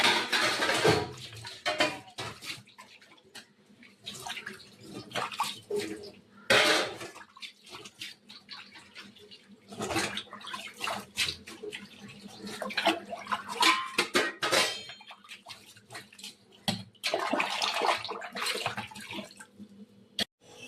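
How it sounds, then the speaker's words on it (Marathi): Dishes washed under a running kitchen tap: intermittent gushes of water alternate with clinks and clatter of pots and utensils, close by, with no talking. "चला मी भांडे धुवून घेते."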